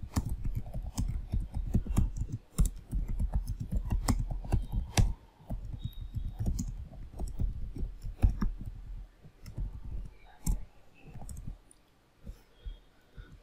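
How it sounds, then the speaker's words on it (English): Computer keyboard typing while writing commands to create a database table, a close run of quick irregular key clicks in bursts with short pauses, no speech. "Let us create a table."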